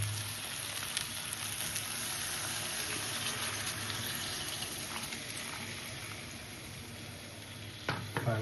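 Chicken stir-frying in a pan for Odia chicken curry, a dense continuous sizzle with scraping stirs, close and steady, ending with a few sharp clatters of the utensil.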